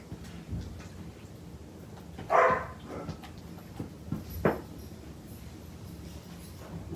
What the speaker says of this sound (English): My son and his friends are out there making him bark.